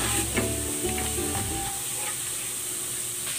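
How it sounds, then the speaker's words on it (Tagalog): Garlic sautéing in hot cooking oil gives a steady, close sizzle with a few stirring scrapes early on, fading slightly toward the end. "Ilalagay ako ng cooking oil. Magigisa ako ng konting bawang."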